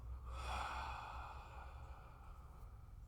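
A long exhale during a guided relaxation breathing exercise, a soft breathy rush that swells early and then tapers off gradually, close and alone with no talking.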